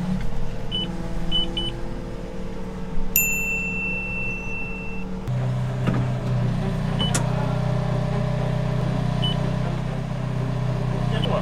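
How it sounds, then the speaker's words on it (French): A telescopic crane boom emits short, faint, high beeps at scattered intervals over the steady low rumble of a heavy machinery engine, with a brief higher whine partway through. "et le télescope il bip un peu."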